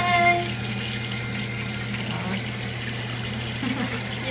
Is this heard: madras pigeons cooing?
no